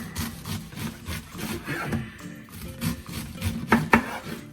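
A knife slices through a head of cabbage on a cutting board, giving repeated crunchy, rasping strokes with a steady rhythm, close and fairly loud, ending in a couple of sharper chops against the board.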